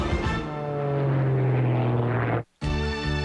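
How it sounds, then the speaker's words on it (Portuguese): Racing planes at the opening round of the Air Race World Championship in Abu Dhabi, loud droning propeller engines with a sustained tone that shifts in pitch as an aircraft passes, cut briefly before the drone resumes. "15 aviões agitaram o céu de Abu Dhabi, nos Emirados Árabes, durante a etapa de abertura do Mundial de Corrida Aérea"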